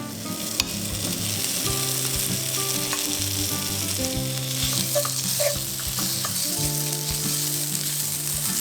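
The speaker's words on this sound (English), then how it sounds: "Cook our bacon." Bacon fries in a pan with a loud, steady sizzle and crackle that holds throughout, joined by occasional stirring and scraping sounds and no talking.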